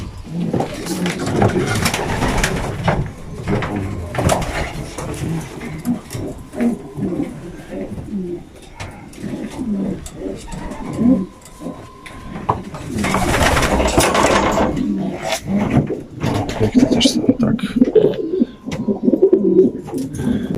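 Racing pigeons coo in low, rolling murmurs amid a busy loft, with rustling, occasional clatter and indistinct background voices throughout.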